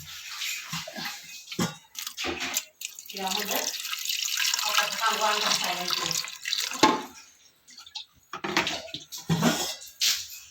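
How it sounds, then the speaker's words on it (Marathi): Water is poured into a pressure cooker holding tomatoes, splashing in several uneven bursts with short pauses between them, close and fairly loud. "कुकरमध्ये अर्धा ग्लास पाणी टाकून आपण त्याला शिजून घेऊ"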